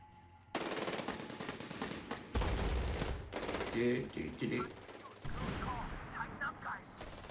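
Gunfire in the video game Medal of Honor Warfighter on PlayStation 3, with loud bursts of automatic fire and sharp shots that start and stop in quick succession, plus scattered in-game effects.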